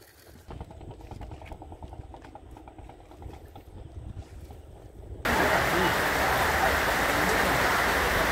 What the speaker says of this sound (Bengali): এখন ঝিমঝিম করে বৃষ্টি পড়ছে